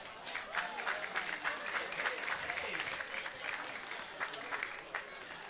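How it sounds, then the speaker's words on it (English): Crowd in the bleachers at an evening amateur baseball game applauds steadily, the clapping moderately distant and continuous for several seconds. "Let's give them a round of applause."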